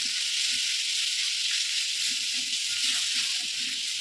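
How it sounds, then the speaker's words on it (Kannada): Ingredients frying with jaggery, salt and tomato in a pan for a North Karnataka eggplant curry, a constant loud hiss and sizzle with faint stirring knocks underneath. "ಇದೆಲ್ಲ ಇವಾಗ ಫ್ರೈ ಮಾಡೋಣ"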